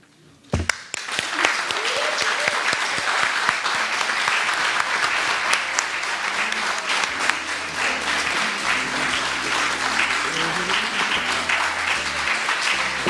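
Sustained audience applause welcoming a speaker onto the stage, beginning with a sharp burst and continuing as steady loud clapping with some cheering throughout.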